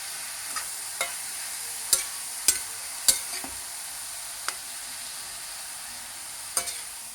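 Pumpkin halwa sweetened with jaggery is stirred in ghee, giving a steady soft sizzle broken by a few sharp spoon scrapes and taps against the pan.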